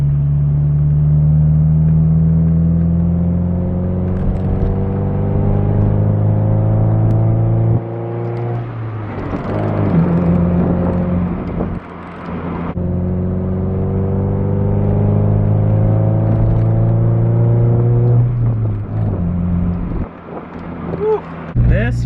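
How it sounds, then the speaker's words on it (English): Honda Del Sol accelerating hard in third gear from inside the car, engine drone climbing steadily in pitch, a brief dip at a shift-like break, then rising again under wind noise. "third gear pull."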